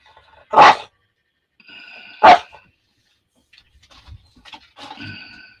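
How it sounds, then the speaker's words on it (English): A dog gives two loud, close barks spaced apart, followed by quieter scuffling and faint voices in the background. "Crazy dog."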